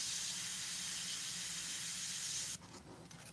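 An airbrush sprays Createx paint onto Blair synthetic paper while painting fur: a steady, close hiss runs almost unbroken for about two and a half seconds, then cuts off into softer, uneven spurts.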